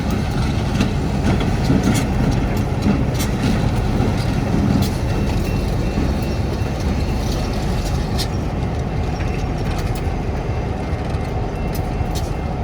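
Two mid-20th-century SW1200 switcher locomotives lead an ex Santa Fe B23-7 on a railroad in Meridian, Mississippi. Their diesel engines make a loud, steady, continuous rumble, with no pauses.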